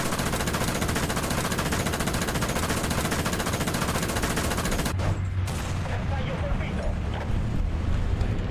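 Dardo IFV autocannon in a video game firing a sustained, loud stream of rapid rounds for about five seconds, then stopping abruptly into engine rumble and a speaking voice.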